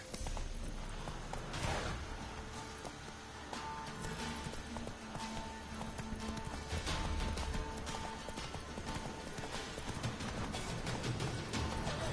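Roach the horse gallops in The Witcher 3, with rapid rhythmic hoofbeats thudding steadily and close throughout, over a busy game soundscape with occasional snorts.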